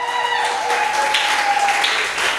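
A church congregation breaks into steady applause, a dense wash of clapping that carries on evenly from start to finish, with a sustained tone and voices faintly beneath it.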